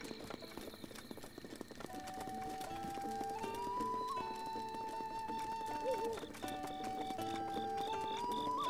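Rhythmic clip-clop of galloping horse hooves in The Legend of Zelda: Breath of the Wild runs steadily under a bright synthesized game melody, fairly quiet and continuous throughout.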